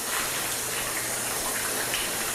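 Water gushes steadily over a section of waxed car paint, a continuous splashing hiss like a hose running at close range for a couple of seconds, with no talking.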